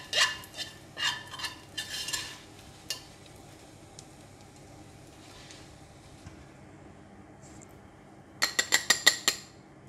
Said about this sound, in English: Give it a stir and fry it for about 45 seconds